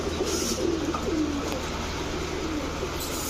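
Soft, low cooing from a yellow Babra female pigeon repeats in gentle rolling phrases, fairly close, over a steady background hum.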